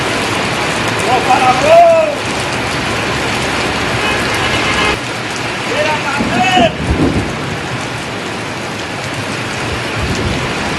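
Steady rain pours down over a street in Serik during a summer shower, a dense continuous hiss with a couple of brief whistling tones and faint rumbling underneath, no voices.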